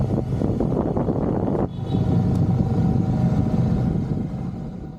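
Steady engine and road rumble from a vehicle driving through Cusco streets, close and continuous for several seconds with a brief shift in tone partway through, no talking.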